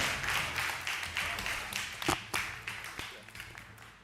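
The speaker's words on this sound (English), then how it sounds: "Let's give Regina another round of applause." An audience at an awards ceremony applauds a presenter, with dense, continuous clapping from a medium-sized crowd in a hall and occasional sharp individual claps standing out.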